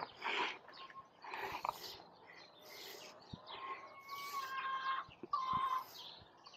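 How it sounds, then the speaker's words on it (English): Chickens on a rural Arizona property cluck and chirp nearby in scattered, irregular calls over a quiet background. "Are those the chickens making noise?"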